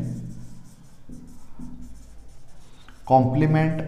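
Chalk or marker writing on a classroom board in short scratchy strokes, interleaved with a teacher talking during a grammar lesson, with a louder burst of voice near the end.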